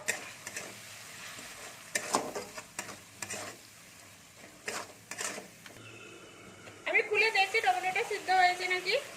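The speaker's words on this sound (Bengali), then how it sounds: "এক চামচের মতো আমি লঙ্কা গুঁড়ো দিলাম স্বাদ অনুযায়ী নুন দেব আধা চামচ ধনে পাউডার আধা চামচ জিরে পাউডার দিয়ে এটাকে আমি ভালো করে কষে নেবো" Chilli, cumin and coriander powder sizzle as they fry in a pan for a Bengali fish curry with peas and aubergine, with spoon stirring scrapes and clinks throughout and a louder, brighter frying burst near the end.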